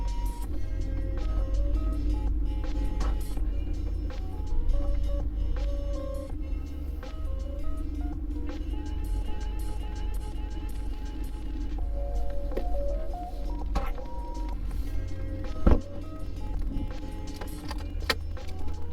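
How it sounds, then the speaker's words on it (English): Inside a BMW E39 as it rolls slowly into a shop, with a low steady engine and road rumble, keys jangling against the dash, and an occasional sharp clunk. "I'm pulling into the shop right now."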